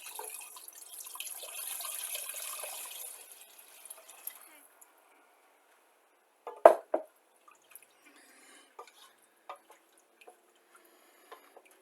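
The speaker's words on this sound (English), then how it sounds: "now in goes our chicken broth and water" Chicken broth and water pour steadily into a soup pot for a few seconds, then stop, followed by a few clinks and light drips.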